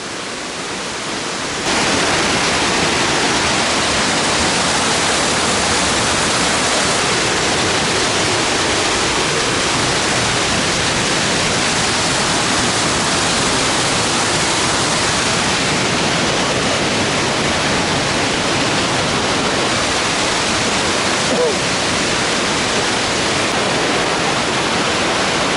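Roaring waterfall on the Bérard via ferrata, heard right beside the cascade as a loud, steady broadband rush that holds unbroken for the whole stretch, with no voices.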